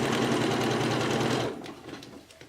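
A sewing machine runs in a fast, steady whir while stitching three layers of a cloth diaper with pins left in, then stops abruptly and only faint handling noise follows.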